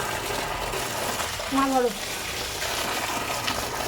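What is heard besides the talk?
water running while vegetables are washed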